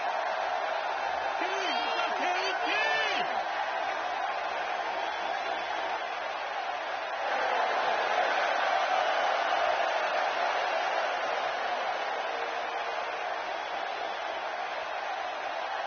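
A capacity arena crowd in a WWE 2K wrestling video game keeps up a steady roar with a swell of cheering midway, running under a commentator's talk throughout.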